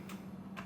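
A couple of faint, quick keystrokes on a computer keyboard sound over a low hum as a Linux mount command is typed.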